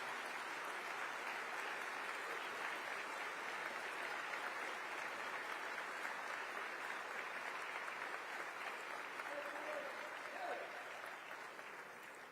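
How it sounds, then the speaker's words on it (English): An audience applauds at the 2023 inauguration of Connecticut Governor Ned Lamont, sustained dense clapping from a large crowd that holds steady and then begins to fade near the end. "How about one more round of applause for both our new and returning state constitutional officers?"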